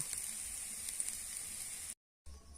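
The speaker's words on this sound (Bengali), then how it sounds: "তেলের মধ্যে নেড়ে নিচ্ছি এই যে দেখো ভালো করে ভেজে নেব" Onion and garlic sizzle steadily in hot oil while being stirred, a continuous crackling fry that holds close and even, then briefly cuts out before resuming.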